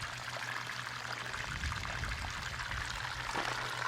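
Laundry water flowing out through a temporary pipe, a soft continuous splashing stream heard steadily throughout, faint and alone.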